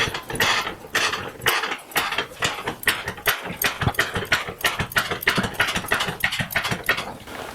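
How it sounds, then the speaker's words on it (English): A car jack raises the front of a car fitted with an experimental airbag suspension, giving a rapid, rhythmic ratcheting click close by as the suspension arm moves. "We've got a jack under the front of the car, so I'm going to lift it"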